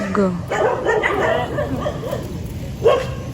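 Dogs yelp and bark close by a river, whiny and excited, mixed with people talking over them.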